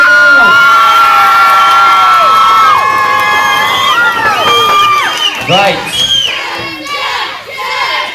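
A party crowd cheers and screams loudly for a contestant in a Baywatch-themed contest, with high shrill whoops and shouts that are strong at first and then grow ragged and uneven.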